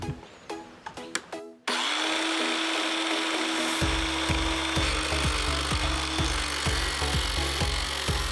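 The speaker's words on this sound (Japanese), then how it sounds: "背もたれの部分を作るのでここを斜めにカットしていきます。" A 1x4 wooden board is sawn diagonally with a power saw for a chair backrest: a few sharp knocks and rubs, then a loud, steady whining cut that runs to the end with rhythmic low pulses as the blade bites.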